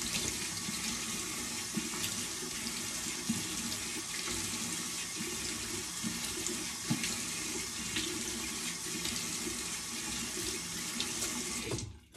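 Cold water running steadily from a bathroom tap into a sink, a constant close hiss that stops abruptly at the end.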